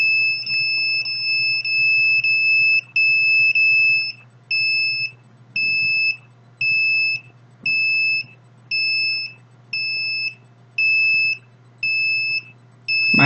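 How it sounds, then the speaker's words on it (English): A handheld detector alarm beeps in a steady pulsing pattern, loud bright tones repeating roughly every second for the whole stretch over a low hum, with no talk. "the alarm is going off."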